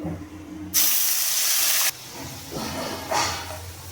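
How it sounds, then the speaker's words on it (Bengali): Ground spice paste hits hot oil while making green banana kofta curry, bursting into a loud, sudden hiss that lasts about a second, followed by softer, uneven sizzling flare-ups, with no talking. "এখানে আমি যে মিক্সিতে মশলাটা পেস্ট করে রেখে দিয়েছিলাম সেটা আমি দিয়ে দেবো"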